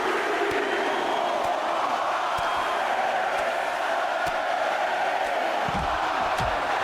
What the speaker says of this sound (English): You heard the Albany, New York crowd counting along